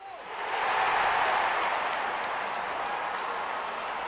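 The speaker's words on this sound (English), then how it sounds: "Openers walking in and the crowd cheering in anticipation." A cricket stadium crowd roars in a dense, sustained wash of cheering and applause as the opening batters walk out for an IPL match between CSK and PBKS, swelling in over the first half-second and holding loud and steady.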